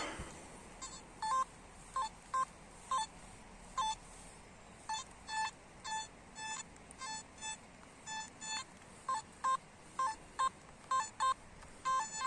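A metal detector by a river gives a series of short, high electronic beeps, repeating in uneven bursts against quiet outdoor background noise.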